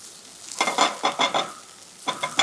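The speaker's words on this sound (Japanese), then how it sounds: "ここはしっかりと炒めてあげてください" Apple filling for a Camembert and apple pie sautéed in a pan over medium heat, with a run of quick scraping stirs and soft sizzling, a short pause, then two more close strokes, with no talk.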